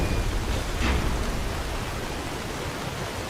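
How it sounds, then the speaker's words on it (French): A thunderstorm in the video game Skyrim, heard as a steady, dense wash of heavy rain with low rumbling underneath that swells briefly near the start, then holds even throughout. "Cet orage, c'est pas normal."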